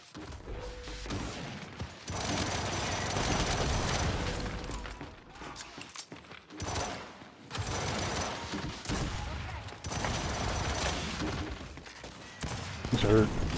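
Sniper fire and bursts of gunfire from the video game Gears 5 crack out over a busy, dense mix of game sound, with loud shots and mechanical clatter recurring across the stretch and people talking over it.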